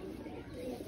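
A pet pigeon kept on a home rooftop gives a brief, low, soft coo against a faint background hum.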